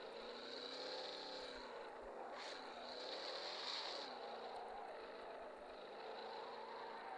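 A car engine while driving and drifting, a steady revving drone with a rising and falling pitch sweep midway, moderately distant, with no talking.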